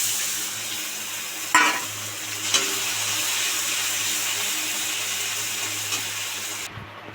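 Chopped onion and ginger-garlic paste fry in hot oil with a steady, close hiss of sizzling, broken by a couple of sharp stirring knocks from a spoon against the pan.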